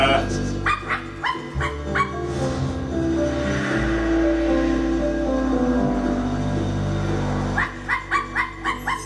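A dog in a video game gives repeated barks and yips in short rhythmic bursts at the start and again near the end, with a steady hum and a low rumble in between.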